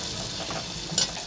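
Tomatoes frying and being stirred in a pan with a little salt, a soft steady sizzle close by with a brief scrape of stirring near the end.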